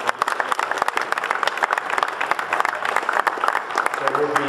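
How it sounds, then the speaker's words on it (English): An audience at a symposium lunch breaks into a sustained round of dense applause, loud and close throughout, with a voice speaking over it. "Let's give them a round of applause."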